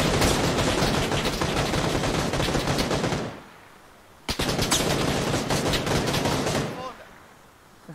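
Rapid bursts of video game gunfire fill the first seconds, stop, then resume in a second dense volley, loud and close, with Portuguese voices talking underneath.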